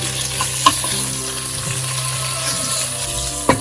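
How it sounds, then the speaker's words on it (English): Potatoes fry in a pan with onions and garlic, giving a steady close sizzle with two sharp clinks of a utensil stirring, and no talk. "I'll fry my potatoes along with the onions and garlic for 2 minutes again"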